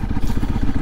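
A Honda CRF300 Rally with its stock exhaust at full throttle, a close, loud, rapidly pulsing single-cylinder engine note with a gritty throb in a brief burst.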